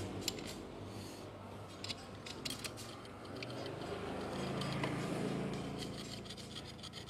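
A rough, rasping grind from a worn engine part, with irregular creaks and scrapes that settle into a steady gritty rumble.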